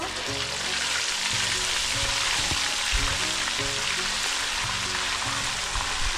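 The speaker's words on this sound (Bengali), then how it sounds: "আদাটা ভালো করে একটু ভেজে নেব।" Ginger frying in hot oil for a tuna fish pickle, a loud, dense, continuous sizzle heard up close and alone.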